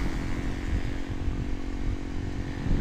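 Motorcycle engine while riding, a steady loud drone with low rumble and a constant hum, continuous for the whole stretch without talk.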